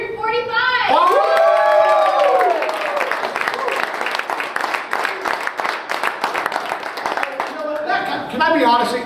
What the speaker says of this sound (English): Your clapping sucks.